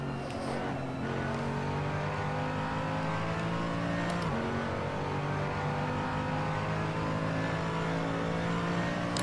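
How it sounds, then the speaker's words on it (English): A GT3 AMG race car engine in the video game Assetto Corsa drones steadily at high revs throughout, with a brief shift or rev change midway and no talking. "giro con la GT3 AMG in Assetto Corsa 1"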